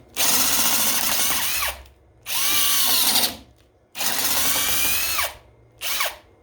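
Masterforce hydraulic impact driver driving screws in four loud whirring bursts, each roughly one to one and a half seconds long with short pauses between, the motor whine dominating over the impacts.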